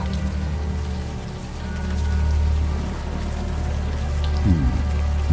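Warm rain falls steadily in the point-and-click adventure game Unavowed, a continuous broadband patter with a low rumbling bed and a brief swell toward the end.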